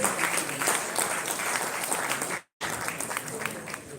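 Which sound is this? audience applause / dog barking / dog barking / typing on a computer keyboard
audience applause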